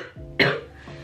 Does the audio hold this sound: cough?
yes